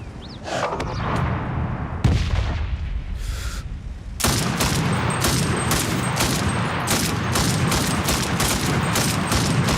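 Gunfire rings out in a battle royale video game: scattered shots open, then a dense run of rapid, loud bursts and rattling fire continues without a break, with no talking.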